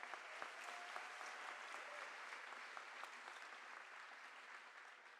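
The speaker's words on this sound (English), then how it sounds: "So let's give those students a round of applause." Steady, dense applause from a high school graduation audience honoring fine arts seniors, a continuous wash of many hands clapping at moderate distance with no pauses.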